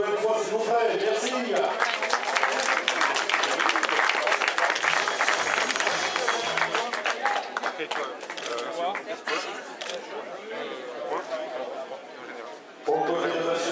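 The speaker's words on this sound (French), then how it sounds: "Merci de l'applaudir une nouvelle fois" A crowd applauds at the stage 4 podium ceremony of the 2013 Kreiz Breizh Elites cycling race in Plouguernével-Rostrenen, honoring the young riders' jersey. Dense, loud, sustained clapping runs for about twelve seconds under an announcer's voice and chatter, then thins out.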